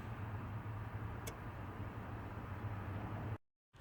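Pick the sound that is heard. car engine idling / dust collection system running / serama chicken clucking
car engine idling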